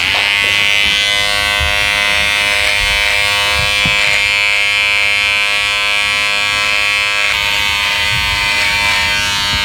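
A Wahl Detailer hair trimmer buzzes steadily and loudly at a barbershop, its dense motor hum holding without a break throughout.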